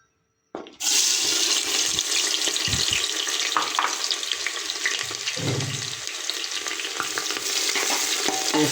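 Onions dropped into hot oil burst into a loud hiss after a brief silence, then hold a strong, dense sizzle with a few stirring knocks. Close, with no speech.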